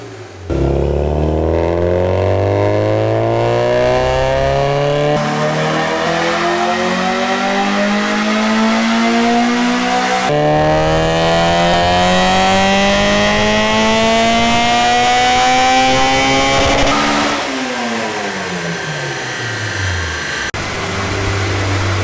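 A K-swapped EG Honda Civic with a manifold exhaust and a 3.5-inch filtered intake runs dyno pulls, its engine revving loud and close, climbing steadily in pitch through the gears, then dropping off as the throttle closes.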